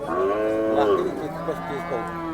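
A Khillar cow at a cattle market in Sangola lets out a long, drawn-out moo up close, its voice rising and bending before trailing off.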